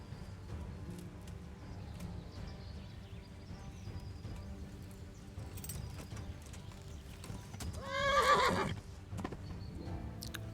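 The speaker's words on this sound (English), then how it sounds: "Bloody horse." Horse hooves clip-clop steadily in the background in the video game Kingdom Come: Deliverance, then a horse lets out a loud, close whinny before the hoofbeats continue.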